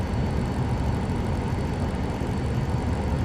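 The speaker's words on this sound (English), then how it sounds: "plane sounds like it's good" A steady airplane engine drone in Microsoft Flight Simulator 2020, a loud, even, unbroken roar that fills the whole moment with no voices.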